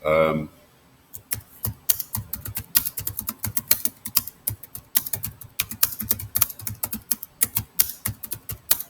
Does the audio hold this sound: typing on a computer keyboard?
yes